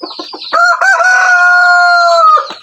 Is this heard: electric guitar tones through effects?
no